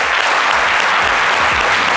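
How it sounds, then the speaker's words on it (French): Dense, loud applause from a studio audience, continuous clapping with no pauses throughout. "On l'applaudit, s'il vous plaît."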